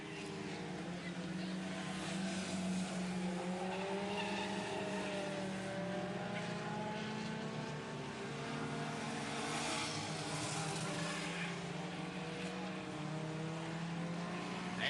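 Mini stock race cars at Saugus Speedway run the final lap of a 1990 main event, a steady drone of engines revving and shifting pitch, with a loudspeaker announcer's voice faintly under the noise.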